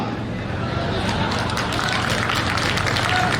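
Dense, steady clapping and crowd noise from an audience at a farmers' conference, with murmuring voices mixed in throughout.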